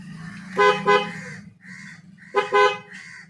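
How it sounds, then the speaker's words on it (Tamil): An aftermarket Skoda-style car horn fitted to a Tata Punch honks twice in short double bursts, each pair a bright, brassy toot, with a quieter tone sounding between them. "ஸோ அந்த கிரெட்டா ஸ்கோடா ஹார்ன் மாதிரி அந்த ஹார்ன் வந்து இதில் இந்த வண்டியில் வந்து இன்ஸ்டால் பண்ணியிருக்கோம்."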